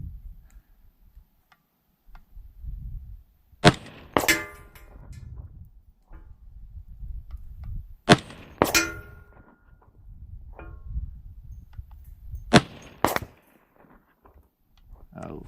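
Rifle rounds of Winchester 350 Legend 145gr ammunition striking a steel target, heard as three separate sharp metallic pings spaced several seconds apart, each shot followed quickly by a ring, over a quiet low outdoor rumble.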